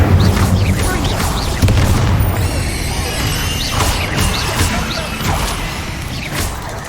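Incendio fire spell cast in the video game Hogwarts Legacy, heard as a dense, roaring burst of fiery whooshes and booms that stays loud and continuous from start to finish.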